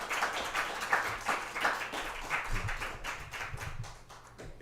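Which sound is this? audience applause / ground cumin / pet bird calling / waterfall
audience applause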